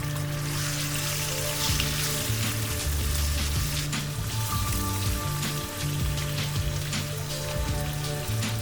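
Garlic butter prawns sear in a hot pan, giving off a steady, dense sizzle that holds at an even level throughout with no talking.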